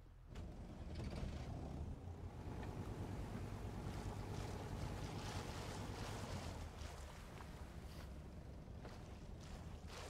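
A boat running out on open water in Rust, a steady engine-like drone with wind and splashing waves filling the whole stretch at fairly constant loudness.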